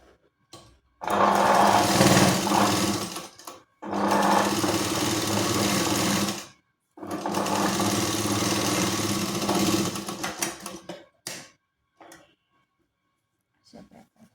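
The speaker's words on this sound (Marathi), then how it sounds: "तर याला डबल स्टिच करून घेणार आहोत आपण" Close sewing machine double-stitching a katori blouse in three long runs separated by short pauses, followed by a few quiet handling clicks.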